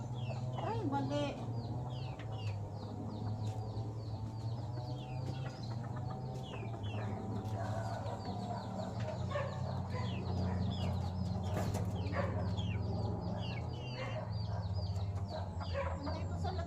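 A mother hen clucks close by amid other chickens, a dense run of short repeated clucks and chirps over a steady low hum, with a person's voice talking at times.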